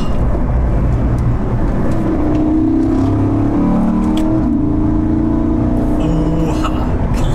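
A 2015 Porsche Panamera GTS with a large naturally aspirated V8, driven in sport mode with the exhaust flaps open on a road, accelerates with a loud, steady engine roar that rises in pitch through the gears.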